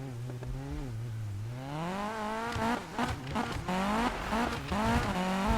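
A Volvo 242 engine in Need for Speed (2015) revs up with rising pitch and gear changes, roaring and surging steadily with no voices.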